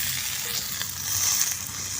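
Chopped bottle gourd hitting hot oil with cumin seeds and green chilies, a close, continuous hiss of frying with faint stirring.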